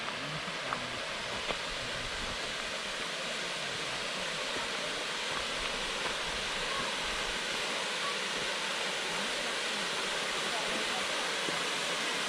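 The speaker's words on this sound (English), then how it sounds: "there's something about waterfalls and running water, weirs." Water pours steadily over a weir in lush castle gardens after heavy rain, a dense, continuous broadband rush that holds even and close for the whole stretch, with no talk.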